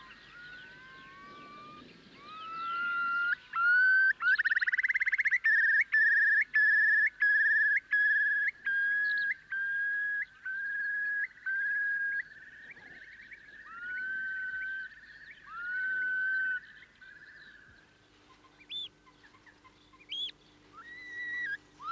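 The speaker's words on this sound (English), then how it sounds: "The bubbling call of the curlew announces the start of its breeding season" A curlew gives its bubbling breeding-season call, a run of rising whistles that breaks into a rapid, pulsing trill, clear and fairly close, then trails off into a few scattered notes.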